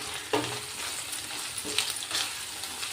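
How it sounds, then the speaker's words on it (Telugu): Taro root curry sizzles in oil in a pan while being stirred with salt and turmeric, steady frying hiss broken by a few scraping stirs, close and moderately loud with no talking. "ఇది బాగా కలుపుదాం కొంచెం ఉప్పు అలాగే కొంచెం పసుపు ఇంకొకసారి కలుపుతాం"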